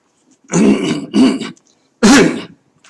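A man coughs and clears his throat in three rough bursts, two close together and then one more after a short pause, close and loud with silence around them.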